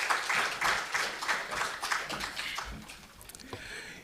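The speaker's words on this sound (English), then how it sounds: "Let's put our hands together in a very majestic way for Seth Kwizera." Audience applause rings out at a conference opening ceremony, a dense wash of many hands clapping fairly close, steady for a few seconds before thinning into scattered claps.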